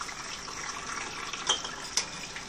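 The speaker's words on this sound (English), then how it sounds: "Careful, because you got to pour the water out." Water splashes and trickles as it is poured out of hot canning jars lifted from a tomato canning pot, a soft continuous wash with two brief louder splashes near the end.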